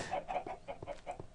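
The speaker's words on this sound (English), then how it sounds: "chickens." Chickens in the video game Minecraft cluck in a quick series of short, soft calls, about six in a row, fairly faint and with no talking.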